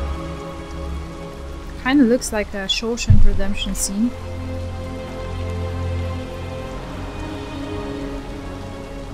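Steady rain falls throughout a scene in the video game Detroit: Become Human, a continuous wash of patter under someone talking over it for a few seconds.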